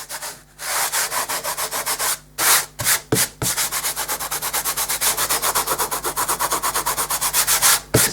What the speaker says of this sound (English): to rub this salt off.